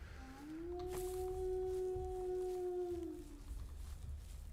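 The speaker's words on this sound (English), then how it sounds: "I love this that we can hear wolves howling" A single long wolf howl from the video game Of Ash and Steel rises, holds a steady pitch, then falls away, sounding fairly distant and faint over a low background rumble, with no talk.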